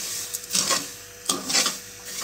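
A spoon scrapes and stirs sugar melting in ghee in a pan for makhadi halwa, giving two or three short rasping strokes that rise and fall, close and fairly loud, with no talking.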